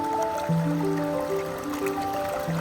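Water is gathered from a creek near a backcountry hut in New Zealand's Richmond Ranges, with close gurgling and trickling as a container fills over a steady stream flow.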